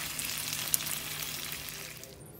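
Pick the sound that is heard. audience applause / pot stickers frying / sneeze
pot stickers frying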